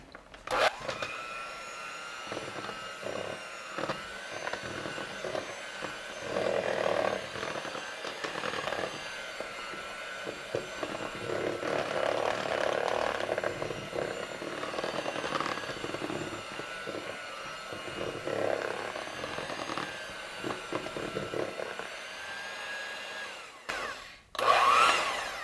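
An electric mixer whirs through cake batter with pineapple juice and crushed pineapple for a strawberry cake, a steady continuous motor drone with slight variations in pitch and load, running close and fairly loud throughout, with no talking.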